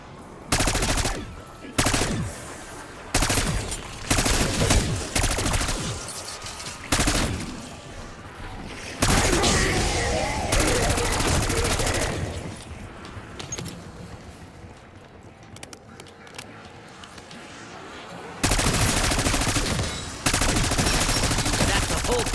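Loud bursts of automatic weapon fire from a zombie shooter video game, firing in repeated rapid volleys separated by short gaps, with a longer sustained stretch of shooting and quieter game ambience between.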